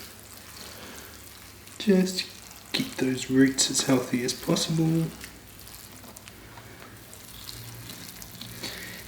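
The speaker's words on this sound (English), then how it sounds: "So I'm just giving it a bit of a water," A newly planted cascade Japanese juniper bonsai is watered, a soft splash and trickle heard before and after someone speaking over it.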